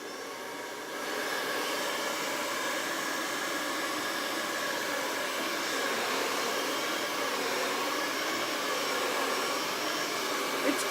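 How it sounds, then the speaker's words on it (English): A blow dryer is switched on and runs steadily on craft paint on a home decor sign, a loud, close, constant whoosh and motor hum lasting throughout with no talking. "let's hit this with a blow dryer"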